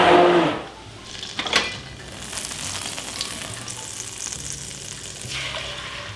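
Sausage, eggs and potatoes frying together in a pan give a loud, steady sizzle, with stirring scrapes and clatter, the hiss strongest at the start and then settling into a continuous crackle.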